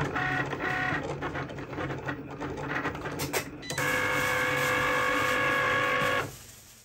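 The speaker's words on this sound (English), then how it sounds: "Now we just send it to the Cricut and let it cut." Cricut cutting machine slicing iron-on heat-transfer vinyl for Christmas stocking lettering, a steady close whirring and buzzing of the carriage motor with shifting back-and-forth tones, ending in a sustained tonal hum before stopping.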